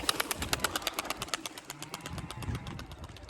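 Rapid wing claps flutter in a quick burst as pigeons lift off, fading after a second or two into a low engine-like rumble.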